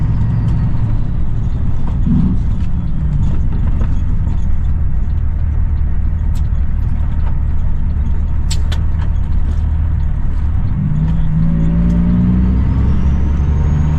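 Car coming up behind and overtaking a truck on a highway, heard from inside the truck cab as a constant loud road and engine rumble with a faint swell of passing traffic.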